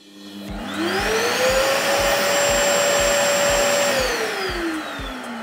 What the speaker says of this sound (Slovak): A takto môžeš jednoducho svoj starý akýkoľvek vysávač obohatiť o diaľkové ovládanie.